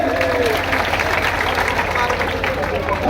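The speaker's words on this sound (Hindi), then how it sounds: "एक बार व्यापार मंडल के लिए दोनों हाथ उठा करके तालियां बजाइए।" An audience at a Ganesh festival poetry gathering in Kishangarh Renwal applauds with both hands raised, a loud, dense and continuous wash of clapping with crowd murmur and a low electrical hum beneath.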